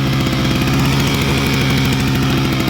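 A Kraft backup power generator engine running at working speed after revving up, a loud, steady, close mechanical drone with an even rapid pulse, alone without voices.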